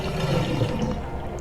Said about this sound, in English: Okay, well that's draining.